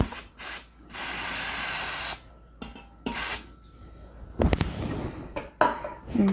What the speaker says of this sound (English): And I'm going to spray more oil on it.